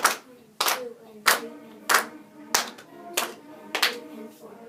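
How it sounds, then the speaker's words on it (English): Band students clap the rhythm of two measures in unison, about seven crisp, evenly spaced claps ringing out close and loud in a rehearsal room. "we're going to clap and count the last 2 measures"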